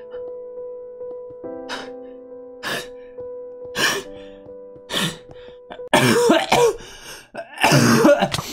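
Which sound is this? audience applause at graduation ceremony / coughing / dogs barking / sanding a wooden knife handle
coughing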